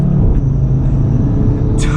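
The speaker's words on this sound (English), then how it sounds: "Audi RS3 MRC tuned on Wales mountain passes." A tuned 2017 Audi RS3 with MRC Stage 2, about 530 brake horsepower, rumbles loud and close with a steady low engine drone through a short stretch of driving on Welsh mountain passes.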